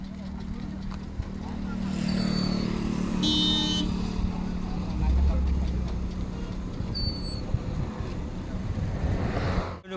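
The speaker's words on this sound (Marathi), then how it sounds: "एक गाडी आहे" A vehicle passes along a road during a pilgrimage walk to Shirdi, its engine and tyre rumble steady and fairly loud for about ten seconds, with wind noise and a brief tone burst near the middle.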